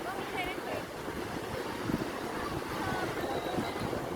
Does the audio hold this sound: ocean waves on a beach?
yes